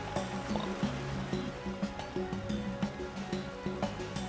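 Steady waterfall rush from the video game CrossCode, a soft continuous watery wash with faint irregular splashes and ticks, low in level and with no talk over it.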